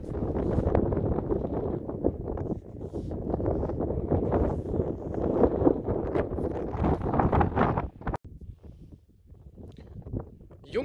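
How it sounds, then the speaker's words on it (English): Strong gusting wind on a high mountain pass on the Camino Francés between St Jean and Roncesvalles buffets the microphone in loud rumbling bursts, easing briefly near the end. "Man, it's pretty windy up here, unbelievable."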